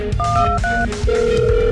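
An unanswered phone ringing, short electronic tone bursts repeating in an uneven pattern over a muffled low background.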